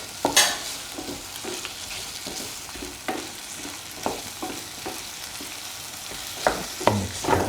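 A ginger and potato mixture fries in a pan, a low steady sizzle broken by repeated scraping stir strokes from a spatula, close and clear with no talking.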